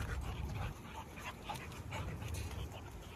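A five-month-old dog panting heavily while running hills on a field, with quick close breaths and a low rumbling background.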